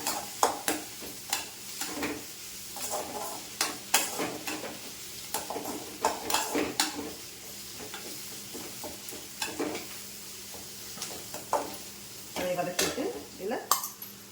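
Gentle sizzling of ridge gourd frying in a pan with frequent scraping and stirring clatter of a spatula against metal, close up, steady throughout.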